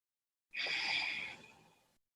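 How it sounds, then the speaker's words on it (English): A single breath pushed out through the mouth during a yoga class, a close, airy exhale about one and a half seconds long that starts strongly and tapers away, alone in a quiet room. "Maybe transitioning to breathing through the mouth just to give yourself a little break, a little refresh."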